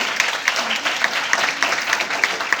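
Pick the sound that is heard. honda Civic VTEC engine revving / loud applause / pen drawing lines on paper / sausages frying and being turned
loud applause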